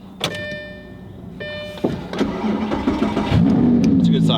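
A period-correct Lamborghini race car engine cranks with a short whirring starter burst, catches, and settles into a rising, throaty idle, close and loud, with voices talking over it.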